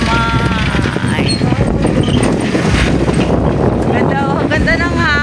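Strong wind buffets a microphone outdoors at a First Friday gathering at Divine Mercy in General Luna, Quezon. The low rumbling gusts are loud and continuous while people talk over them.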